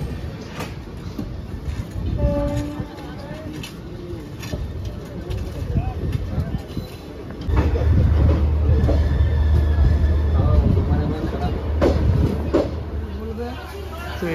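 The Aranyak Express, train 12885, pulls into Kharagpur station with a steady rumble of wheels and carriages that swells and grows louder halfway through. Faint squeals and clanks come through, and passengers talk throughout.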